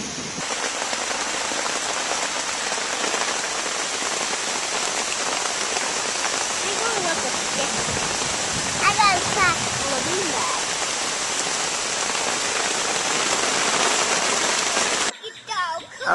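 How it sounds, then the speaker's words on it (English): Steady rain patters on a tent in a dense, continuous hiss, with a brief voice or call midway before the sound cuts off near the end. "I'm gonna go crawl inside the tent and wait for this rain to stop"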